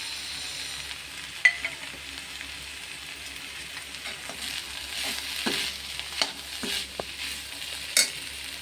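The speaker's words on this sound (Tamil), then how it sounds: "இப்போ நம்ம முட்டையை சேர்த்துக்கலாம்." Egg being stirred into vegetables frying in a pan for vegetable fried rice: a steady close sizzle with a few sharp scrapes and taps from the stirring spoon, and no talk.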